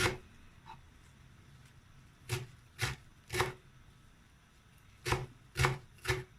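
A knife chops wild labada (dock) greens on a board in sharp, close strikes, a few spaced cuts then a quicker run of three, with no talking.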